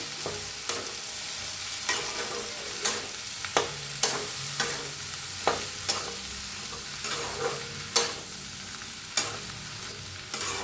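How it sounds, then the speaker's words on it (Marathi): Fried potatoes and beans are stirred with salt in a pan over a gentle sizzle. Regular spatula knocks and scrapes repeat every second or so against the soft frying hiss, with no talking. "बटाटून बीन्स भाजून घेतलेली मिक्स करूया चवीप्रमाणे मीठ टाकूया मिक्स करून घेऊया"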